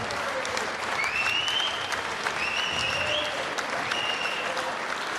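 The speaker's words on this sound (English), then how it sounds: "let's get a round of applause for both fighters who gave their all" Sustained crowd applause for two boxers after the tenth and final round of a professional fight, dense and steady for several seconds, with faint whistles and cheers rising above the clapping.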